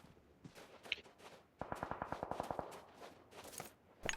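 Rapid automatic gunfire from a video game shooter, a burst of about a dozen evenly spaced sharp shots in quick rhythm, loud and close, with scattered single shots and game noise before and after.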